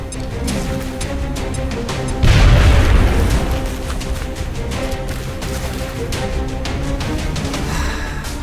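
A grenade bursts in XCOM Long War as a single low, heavy boom about two seconds in, swelling loudly and decaying over roughly a second against a busy background of game music and effects.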